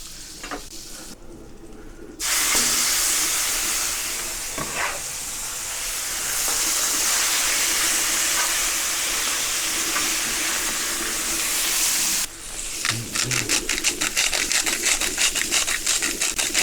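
Butter sizzling and browning over medium-high heat on a Pit Boss grill, a loud close, steady hiss that stops abruptly and then returns as rapid crackling pops.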